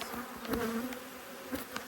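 Agitated honeybees swarm around an opened hive during an inspection after the queen excluder and box are lifted, a dense, steady, close buzz with a shifting whine from individual bees passing near.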